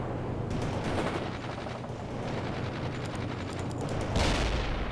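Dense battlefield gunfire in the real-time strategy game World in Conflict: Soviet Assault, a continuous crackle of rapid shots and rattling bursts that swells into a louder blast near the end.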